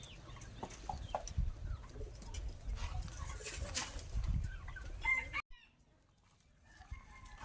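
Chickens and ducks in a backyard poultry pen, with scattered clucks and bird calls over a steady low rumble of wind or handling noise, going quiet near the end apart from a few faint chirps.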